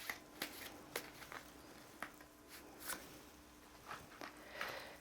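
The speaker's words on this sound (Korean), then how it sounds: "제가 주역 카드 한번 뽑아 보겠습니다." A Zhouyi oracle card deck is handled and one card is drawn, giving soft, close papery flicks and light shuffling taps at irregular intervals in a quiet room. No one speaks.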